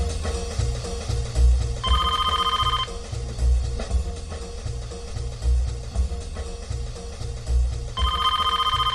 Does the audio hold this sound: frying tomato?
no